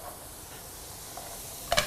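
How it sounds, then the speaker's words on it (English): Chopped butternut squash frying in hot oil in a pan, a soft steady sizzle with a brief louder crackle near the end, quiet and without talk. "In we go with the butternut squash. Start to fry that off."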